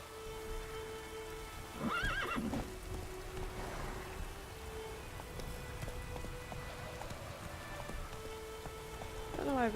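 Roach, the horse in the Witcher 3 video game, neighs twice, once early and again at the end, with rising-and-falling whinnies over a steady rain-like hiss.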